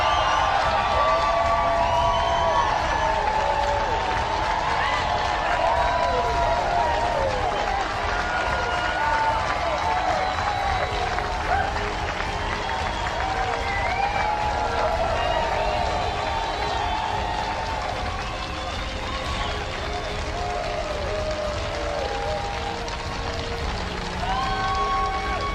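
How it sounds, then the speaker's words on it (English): An audience at a motivational speech breaks into sustained applause mixed with cheering and whoops. The sound is dense and steady for the full stretch. "Give yourselves a round of applause."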